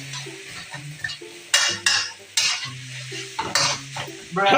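Instant noodles sizzle in a wok over high heat as a metal utensil scrapes and clanks in quick, uneven strokes, close by, with no talking.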